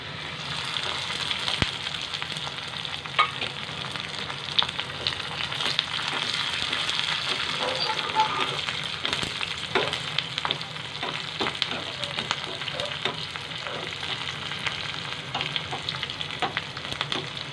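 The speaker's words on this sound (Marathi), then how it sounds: "इथे तर जिरा आणि मोहरी टाकायचा, लसूण टाकायचा, कढीपत्ता आणि मिरची टाकायची" Cumin, mustard seeds, garlic, curry leaves and chillies crackle in hot oil, a continuous sizzle dotted with many sharp pops and spatters throughout, near and unaccompanied by speech.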